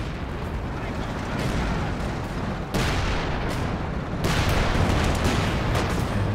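Artillery barrage in Company of Heroes 2, Scots shelling an Ostheer base exit: dense rumbling booms and blasts roll on continuously, loud and layered, with a sharp fresh wave of impacts partway through.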